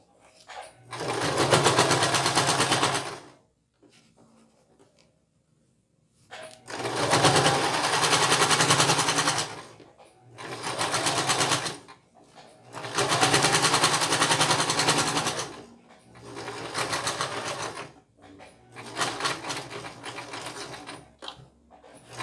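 A sewing machine stitches orange bias binding around a small fabric pouch, running in loud bursts of a few seconds each, separated by short pauses and faint handling sounds.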